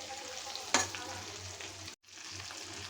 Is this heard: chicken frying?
yes